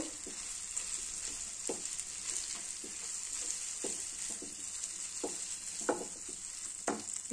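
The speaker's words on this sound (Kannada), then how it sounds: "ಈ ಥರ ತುಪ್ಪದಾಗ ಅಂದ್ರೆ ಚೆನ್ನಾಗಿ ಫ್ರೈ ಮಾಡ್ಕೋಬೇಕು" Wheat sweet frying in ghee, a steady bright sizzle running throughout with a string of short spoon or spatula scrapes against the pan at an uneven pace, close and moderately loud.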